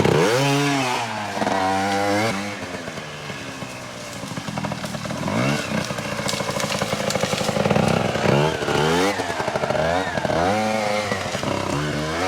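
A Beta EVO 80 Jr youth trials bike ridden around a shop, its small engine revving and rising and falling in pitch through repeated throttle bursts, steady and fairly close throughout.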